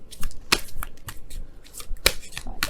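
Tarot cards being shuffled by hand, several quick riffling bursts and crisp snaps at uneven intervals, close and fairly loud with no talking.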